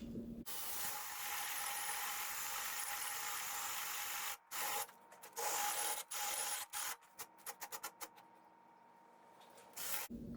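A drill bit boring holes into a wooden planter, with a long continuous grinding rasp followed by a series of short choppy bursts and brief gaps, fairly quiet and close.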